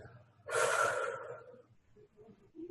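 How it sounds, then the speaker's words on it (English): A long, full exhale after a held breath during a guided breathing exercise, a close, breathy rush lasting about a second before trailing off into quieter breaths. "and then exhale fully"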